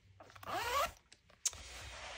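A zipper on a thrifted bag's pocket is pulled in one quick, close zip, followed by a soft click and quiet handling.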